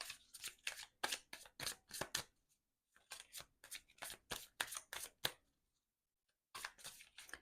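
Tarot cards shuffled close by in quick riffling bursts, two long runs separated by a brief pause and then a final burst, with no voices.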